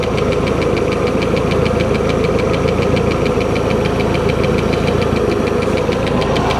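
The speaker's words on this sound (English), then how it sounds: "Engine's running cool." A 120hp Mercruiser engine in a 1967 Starcraft Holiday boat running steadily with a loud, rapid, even knocking rumble close by, no voices over it.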